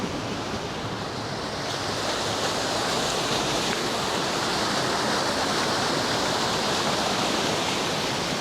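Antipolo Falls, a river waterfall in Indang, Cavite, pours with a steady, dense roar of rushing water, close and continuous without a break.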